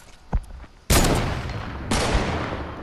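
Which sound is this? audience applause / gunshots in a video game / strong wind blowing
gunshots in a video game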